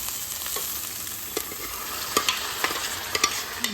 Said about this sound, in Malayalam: നമ്മൾ പാനിലേക്ക് മാറ്റിയ ചിക്കൻ്റെ മസാലയും എല്ലാം നന്നായിട്ട് ചൂടായി വരുന്നുണ്ട്